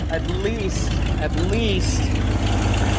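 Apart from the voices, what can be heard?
1987 Ford F150 engine running with exhaust leak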